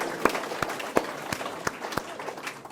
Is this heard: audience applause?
yes